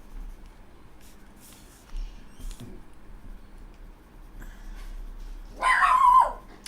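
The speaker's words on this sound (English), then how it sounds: "you can hear the dogs in the background" A dog barks sharply once near the end, preceded by a few faint distant yips over a quiet background.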